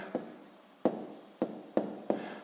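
A hand writes numbers during a sixth-grade math exercise, with five distinct taps and short scratches of pen on paper in an uneven rhythm, close and quiet with no talking.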